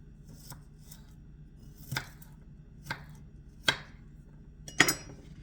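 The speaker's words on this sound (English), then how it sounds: "It's a garlic that I have here. Just chop it up a little coarsely because I want to stick it in my grinder." A knife coarsely chops garlic on a board for a lamb shank dish, giving about five sharp, irregularly spaced chops over a soft background hum.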